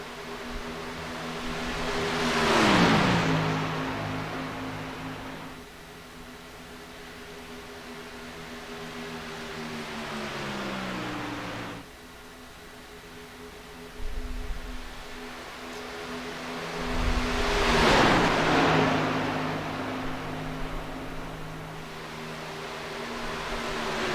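Stock car engines race at Daytona in the Simverse sim racing video game, steady multi-engine drones rising and falling in pitch as cars roar past twice with Doppler-like sweeps.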